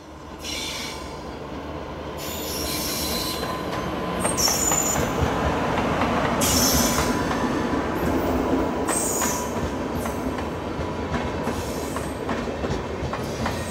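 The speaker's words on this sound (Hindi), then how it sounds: "अम्बाला की तरफ से आ चुकी है ऊना नई दिल्ली जन शताब्दी एक्सप्रेस" Una–New Delhi Jan Shatabdi Express passing on the line from Ambala, a loud sustained rumble of wheels and cars with clickety-clack and squealing, heard close up for the whole stretch.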